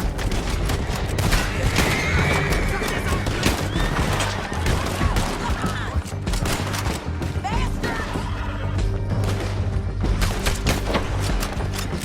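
Horses with riders whinny and clatter in a canyon battle in the Red Dead Redemption 2 video game. Dense gunfire, crashes and shouting fill the loud, chaotic scene.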